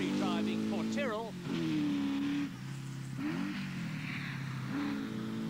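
A rally car pulls away on a 1983 rally sprint stage, leaving the tarmac and crossing a field before climbing a hill. The engine drones steadily throughout, with rising revs partly masked by someone commentating over it.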